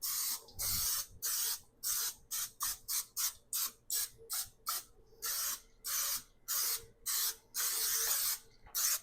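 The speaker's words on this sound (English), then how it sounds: "when you're spraying the Bundt pan, be sure you get the cone all the way up to the top" Pam cooking spray is sprayed into a Bundt pan in many quick hissing bursts, short and longer sprays in an uneven rhythm, close and alone with no talking.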